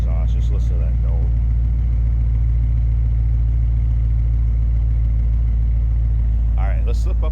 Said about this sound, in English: Great sounding exhaust. Just listen to that note.